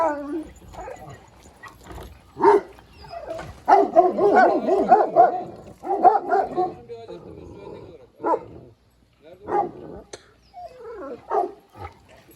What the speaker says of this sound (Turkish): Bakın başka bir sürü köpeğe denk geldi.